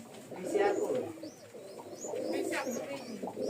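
Pigeons coo in soft, repeated throaty phrases close by in a loft, a newly paired couple with the male in a courting mood, along with a few faint chirps from other birds in the background.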